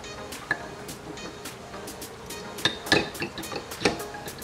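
A YZ250 two-stroke cylinder slides down over its studs and dowel pins during engine assembly, giving soft scraping with a few sharp metallic clinks near the end, close up and fairly quiet.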